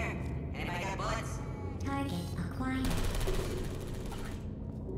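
A Portal 2 turret firing rapid bullet bursts amid game sounds, as players talk over the chattering gunfire.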